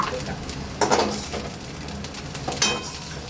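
Grated coconut frying in an oiled pan makes a soft sizzle under repeated spatula scrapes and metallic clinks, with a couple of sharper knocks and no talking.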